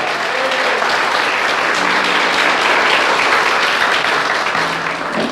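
A church congregation at an evening celebration service bursts into loud, sustained applause, dense clapping filling the room steadily for several seconds without a break, with no clear voices above it.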